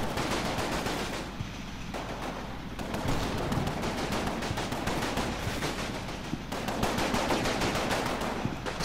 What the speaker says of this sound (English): Is that MG kicking up again?